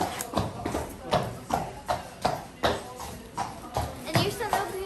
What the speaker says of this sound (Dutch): hier staat dus ook een ander paard die ook Fortuna heet